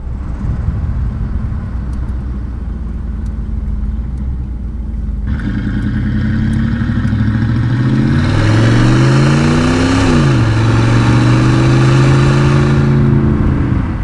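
A low-mileage 1989 Chevrolet Camaro IROC-Z with a 5.7 TPI V8 idles steadily, then revs hard and pulls up through the gears on a drive. The engine roar is loud and close, rising and falling with each shift.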